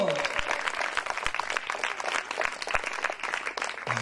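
Church congregation clapping at a Telugu Christian sermon, a dense steady patter of many hands sustained throughout at moderate volume, with a few sharper claps standing out and a faint voice over it.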